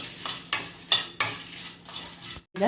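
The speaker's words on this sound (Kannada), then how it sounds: "ಜೀರಿಗೆ ಮೆಂತೆ ಬೇಳೆ ಇಷ್ಟು ಹಾಕಿ ಡ್ರೈ ರೋಸ್ಟ್ ಮಾಡಿಕೊಳ್ತೀನಿ" Cumin, fenugreek and lentils dry roasting in a pan get stirred with a utensil, giving a series of about seven sharp scraping strokes at an uneven rhythm, close and fairly faint, with a brief gap near the end.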